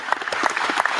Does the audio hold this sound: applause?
yes